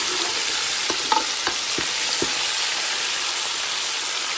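Farm chicken sizzles in a pan for a chicken and mushroom curry, a steady frying hiss broken by a few clicks and scrapes as the pieces are turned over.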